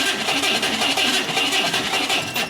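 A car engine cranks over on power from a ZEVZO 1000A portable jump starter, giving a dense, steady mechanical churn that stays close and loud throughout without catching.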